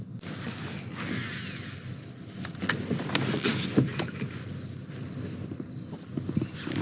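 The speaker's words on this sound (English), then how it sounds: "Now I'm paddling out here" Paddle strokes splash and swish through lake water from a small boat nearby, with soft irregular dips over a faint background of insect chirping.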